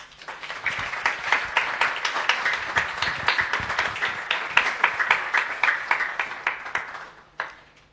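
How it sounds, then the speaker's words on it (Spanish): An audience in a hall claps to welcome speakers at a book presentation, with dense, close hand claps sustained for several seconds before tapering off into a few final claps. "los recibimos con un aplauso"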